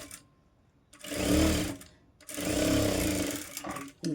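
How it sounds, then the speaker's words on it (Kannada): A sewing machine stitches a blouse in two loud, steady whirring runs separated by a short pause, with a brief stop near the end and no talking. "ಇದನ್ನು ಸಿಂಗಲ್ ಲೇಯರಲ್ಲಿ ಸ್ಟಿಚ್ ಮಾಡ್ಕೋಬೇಕು."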